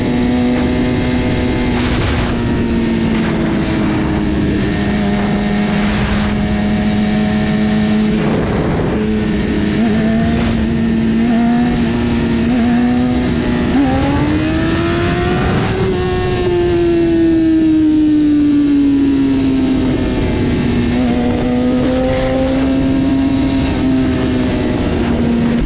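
Inline-four motorcycle engine on a wheelie practice ride, a loud, continuous high-pitched tone rising and falling with throttle changes and holding near constant speed between, with no talk over it.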